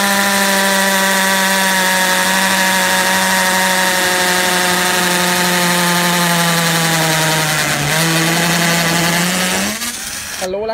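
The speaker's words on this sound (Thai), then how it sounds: "โอเคเดี๋ยวเรามาลองเจาะปูนดีกว่าครับ" OSUKA 32 V three-mode cordless drill boring into concrete, a loud, steady high-pitched whine with strong harmonics that holds for about ten seconds before dipping and winding down near the end.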